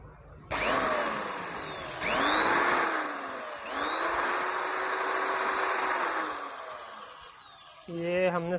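An electric drill fitted with the smallest tiny bit bores a hole in a microwave oven door-lock part, whining steadily as its motor pitch rises and dips, and it stops at the end as a voice starts.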